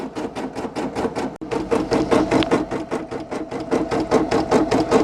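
A Brother PE800 embroidery machine sews a satin stitch patch, its needle hammering in a fast, steady rhythm close by with a brief break near the start and no voices.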